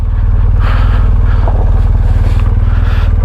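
A motorcycle in first gear rolling down a steep slope, its engine close and loud with a fast, even pulsing beat and some clatter, running steadily throughout.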